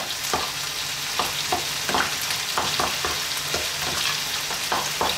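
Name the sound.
stirring spices into frying lamb dopiaza curry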